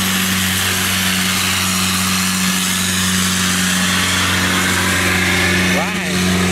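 A long-tail speedboat (vỏ lãi) engine on a river runs hard in a sustained, high, buzzing whine with steady droning tones, loud and close, and a voice comes in briefly near the end.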